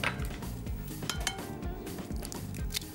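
Two large eggs go into a mixing bowl, making a quick run of clinks and taps of shell and utensils against the bowl. The sounds are close and sharp, with no voices.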